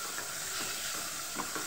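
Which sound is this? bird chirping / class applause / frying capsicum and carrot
frying capsicum and carrot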